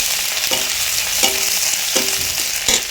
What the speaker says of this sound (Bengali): আদা থেতো, আদাটা একটু সামান্য ভেজে নিচ্ছি।